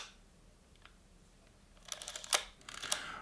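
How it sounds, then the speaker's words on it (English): A Leica M7 film rangefinder camera fires its shutter with a soft, muffled click and a brief mechanical whir, followed by another short click. The sound is close, quiet and alone, with no talking. "it is a super quiet camera for when it's being released"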